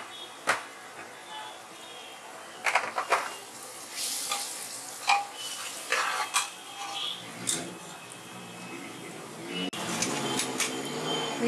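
Whole coriander and cumin seeds sizzle softly in a hot pan for a restaurant-style keema, with sharp, irregular scrapes and clacks from a spoon stirring them against the metal.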